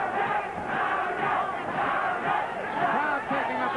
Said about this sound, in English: Crowd taking up a chant in support of the champion, Salvador Sanchez